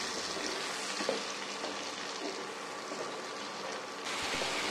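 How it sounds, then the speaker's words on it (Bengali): Fried potatoes cook with a spice paste for badha kopir ghonto, giving a steady, dense hissing sizzle that holds at an even level throughout and grows slightly louder near the end. "এখন এই আলুর সঙ্গে মশলাটা আমি খুব ভালো করে কষিয়ে নেব"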